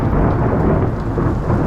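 Thunder from a moderate storm over the Chartreuse area of Liège rumbles loud and deep for under two seconds, layered over steady rain.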